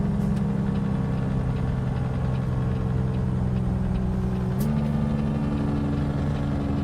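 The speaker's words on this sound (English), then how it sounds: "Man, this truck sounds dirty." Truck engine idling in American Truck Simulator: a steady, close diesel drone with a constant low throb, shifting slightly in pitch partway through, running alone without talk.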